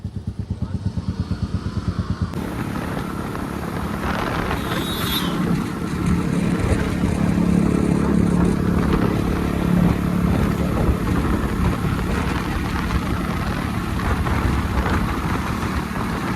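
A motorcycle engine putters at idle, then revs up and runs steadily as the bike rides off, loud and close throughout, in Fatehgarh Sahib, Punjab.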